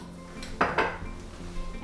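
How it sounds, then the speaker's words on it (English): A utensil knocks against a bowl while sourdough starter is mixed into lava cake batter, giving two sharp close clinks amid quiet scraping. "thoroughly mix that in"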